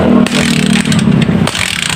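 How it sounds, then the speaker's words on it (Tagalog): A customer's motorcycle with a hard-starting engine, needing twenty to thirty kicks before it fires, runs roughly and loudly up close, with a steady throbbing drone broken by brief dips and surges. "so bali mahirap talaga paanda rin itong motor ng ating customer"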